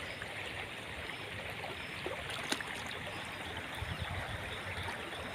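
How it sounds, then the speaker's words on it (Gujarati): Floodwater from a river in flood rushes in a steady, moderate wash, a continuous turbulent murmur heard from nearby in a village without voices. "આ રીતના આમાં બધે પાણી હેલ્યું આવે છે"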